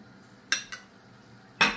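A spoon clinks against a bowl while flour is added to batter for a poured-dough soup: two light taps close together, then a louder clink after a pause, near and brief.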